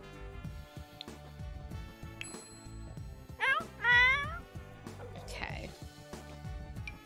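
Cartoonish cat meows from The Sims 4 life-simulation game, a rising wavering mew around the middle followed by a longer, louder meow, set against game music and faint talk.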